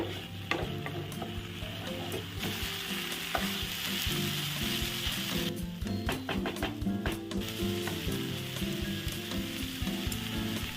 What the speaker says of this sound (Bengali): এবারে আমি একটু নাড়াচাড়া করে গ্যাসটা বন্ধ করে দেবো।